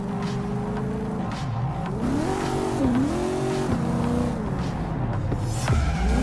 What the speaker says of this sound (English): car is a super-powered sports car running on Chew-2, the super fuel of the future.